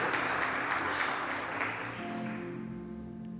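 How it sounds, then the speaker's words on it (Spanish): A church congregation applauds its children, a broad wash of clapping that fades away as a low sustained tone remains underneath. "Le damos un aplauso a nuestros niños"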